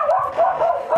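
A small dog barks and yips in quick, close, fairly loud bursts inside a house kitchen, with no talking over it.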